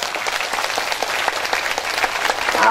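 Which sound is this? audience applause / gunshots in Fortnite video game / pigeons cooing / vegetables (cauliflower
audience applause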